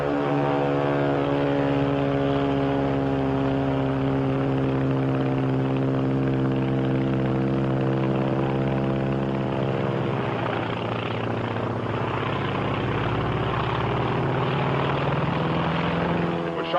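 A Japanese WW2 Zero fighter plane flies with a loud, sustained propeller engine drone, its pitch shifting downward partway through as it passes, steady and unbroken throughout.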